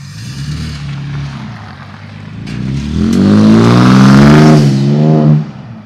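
A 2022-or-newer Toyota Tundra with a Carven cat-back exhaust idles with a deep burble, then is revved hard into a loud, rising roar that holds for a couple of seconds before cutting back, close and prominent.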